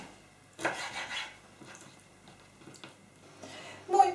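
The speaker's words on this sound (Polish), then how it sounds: "Śledzie dzielę na kawałki." Herring being cut into pieces with a knife on a board in a home kitchen: a few soft, separate cutting and scraping strokes, close and fairly quiet, with faint clatter at the end.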